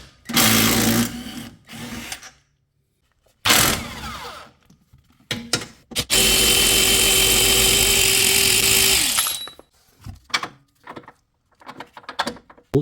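A power tool works a sway bar bolt under a Mercedes C, CLK or SLK class during a control arm replacement. It comes in loud, close bursts: several short spins, then one long sustained run, with scattered clanks between.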